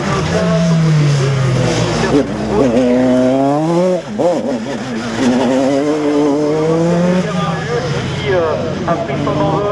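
Single-seater race car number 6 launching into a slalom run at the Slalom du Mortanais 2016, its engine revving and shifting under steady commentary, with a rising, wavering drone that dips briefly midway.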